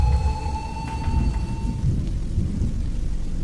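A thunderstorm with steady heavy rain, a low rolling rumble of thunder filling the background throughout, with a brief tonal whine early on; loud and continuous, no voices.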